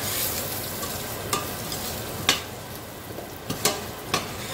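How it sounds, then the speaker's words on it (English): Raw masala with okra frying in a pan for bhindi fry, a continuous close sizzle broken by a handful of sharp clacks and scrapes from stirring, no voices. "I'll just allow the raw masala to cook a little"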